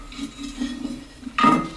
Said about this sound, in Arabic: All you gotta do is set the lid on top of it.